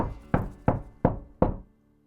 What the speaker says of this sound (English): Sorry, Sev, there's someone at the door